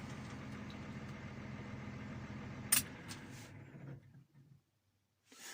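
A New Holland T7000 tractor engine idles low with a steady, close diesel rumble and a brief sharp click partway through, then shuts off and falls to near silence.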